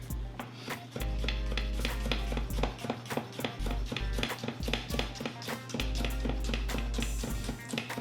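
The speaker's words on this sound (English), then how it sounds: "Just slice, slice, slice, slice, slice, slice." A knife slices shallot and garlic on a board for a home pizza sauce, giving a steady run of quick taps close by over a low sustained hum.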